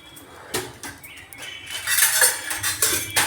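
Metal clinks and knocks as a wok is set on a lit gas stove in a home kitchen, several sharp scattered clatters of pots with a faint hiss between them.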